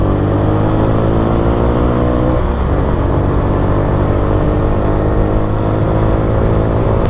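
Honda XRM 125 Motard motorcycle engine idling and running steadily up close, a continuous loud drone with a slight shift in pitch partway through and no talking.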